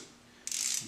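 A ratchet clicks as it loosens a cylinder head bolt on a 2000 Mustang, giving a short, close, rapid burst of pawl clicks after a moment of quiet.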